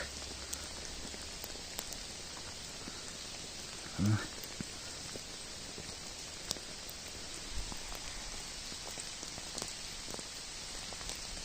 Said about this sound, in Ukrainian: Добре, дощики перепадають, то вони будуть рости.